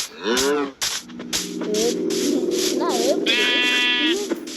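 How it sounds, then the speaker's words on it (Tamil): A goat bleats in loud, wavering cries that repeat and overlap across the stretch, close to the microphone, with brief rustling and background noise on a farm. "இந்த ஆட்டு வேற கைஸ்."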